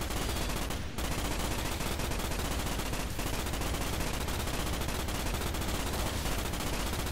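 Rapid automatic gunfire from the Starship Troopers PC game, a dense, continuous barrage filling the whole stretch with only a brief break near the start.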